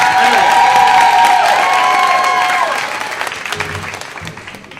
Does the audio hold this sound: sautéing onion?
no